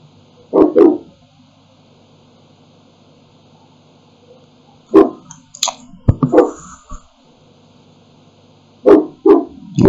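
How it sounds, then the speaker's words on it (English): A small dog barking nearby in short loud bursts: a pair of yaps, then a cluster of barks, then two more at the end, separated by quiet stretches with faint background hum. "Why must I all time say apologies for the tiny dog there?"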